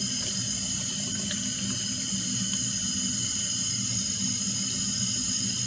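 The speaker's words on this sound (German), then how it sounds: "wenn die Seife so gut schäumt, kannst du es abwaschen" Steady tap water runs into a sink while soapy hands are rinsed under it, a continuous close splashing hiss with no speech.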